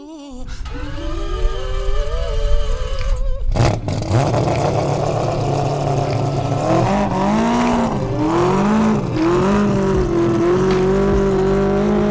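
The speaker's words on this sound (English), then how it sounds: "That's why we're out here at Chuckwalla Raceway, to go shake this car down." A car driven hard around Chuckwalla Raceway, its engine revving loudly and rising through the gears after a brief lull, with tire noise and continuous engine roar close by.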